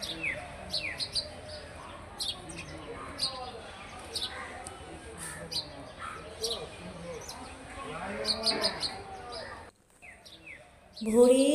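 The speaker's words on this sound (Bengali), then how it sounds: "সকালে পাখিদের মিষ্টি সুরের গান পাখিদের মিষ্টি সুরের কোলাহল" Morning birdsong with repeated chirps and tweets scattered across the scene, moderately near, over a quiet background with occasional faint voices.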